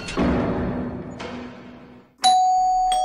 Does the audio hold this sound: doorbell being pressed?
yes